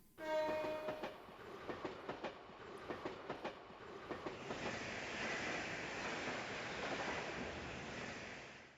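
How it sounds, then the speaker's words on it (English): A train from the Empire arrives in the video game Trails to Azure, starting with a horn blast and then rhythmic clickety-clack of wheels that gives way to a steady rushing rumble as it rolls in. "The train from the Empire."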